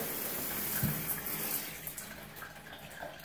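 Water running from a soaker tub faucet in a master bathroom, a soft continuous hiss and splash at low level, steady throughout with a few small spatters and no talk.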